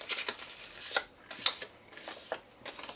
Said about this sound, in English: it's quite therapeutic folding boxes and paper